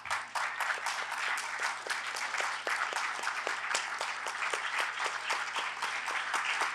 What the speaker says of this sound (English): And if no one applauds, I will applaud.